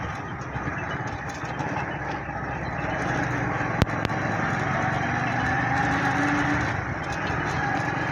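Motorbike engine idling steadily while the bike is pulled into parking near a temple site, a continuous low rumble running throughout with a brief sharp click partway through, no talk over it.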